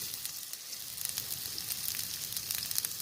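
Carrot and cabbage fry in a pan on a rooftop, giving a continuous crackling sizzle with bursts of spatter that grow livelier toward the end, close by and with no one talking.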